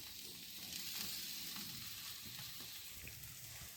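Rohu fish pieces fry in a pan with potato and onion, producing a soft, continuous sizzle with light crackling and occasional stirring scrapes.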